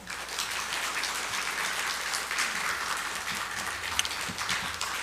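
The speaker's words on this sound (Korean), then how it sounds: "축하 박수 한번 해주세요" Church congregation at a Sunday service applauding in congratulation of a wedding announcement, a dense, steady round of clapping throughout.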